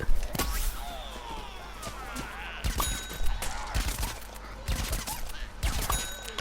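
Foot soldier gunfire in Plants vs Zombies Garden Warfare 2, rapid repeated shots with sharp transients scattered over a busy game soundscape, moderately loud and uneven in rhythm.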